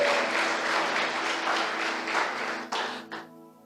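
A church congregation at a conference applauds in a loud, dense wash of clapping that keeps up for a few seconds, then thins to a few last claps and stops.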